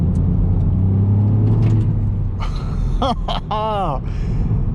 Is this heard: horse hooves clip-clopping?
no